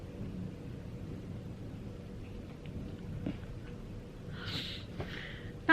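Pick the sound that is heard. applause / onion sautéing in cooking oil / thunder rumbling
thunder rumbling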